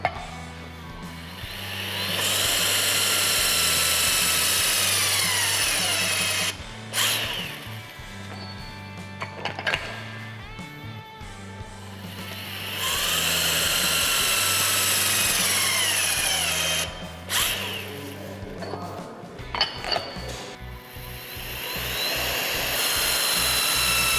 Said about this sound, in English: Now I'm going to torque the nuts to 700 foot-pounds.